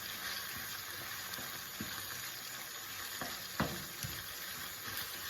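Leeks fry gently in a pan for a Sicilian-style pork and fennel sugo, giving a soft, low-level sizzle with a few light stirring clicks and taps.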